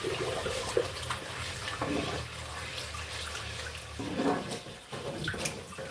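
Hot water runs from a tap in a steady, moderately loud rush with small shifts in flow, and no talk over it.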